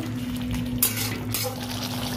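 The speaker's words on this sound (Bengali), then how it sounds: "ভাজা পটলগুলো দিয়ে ভালো করে একটু নেড়ে ছেড়ে নেবো।" Fried pointed gourd pieces stirred into a yogurt masala in a pan, with a steady wet scraping and light sizzle, one sharper utensil knock partway through, close and alone without talk.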